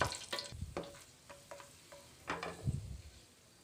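Cashews and raisins fry in hot ghee with a soft, steady sizzle, broken by scattered clinks and scrapes of a spoon stirring the pan close by.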